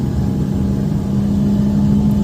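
Car engine accelerating at night during a driving lesson, a loud steady mid-pitched drone with a constant hum that holds throughout the short stretch, without talk.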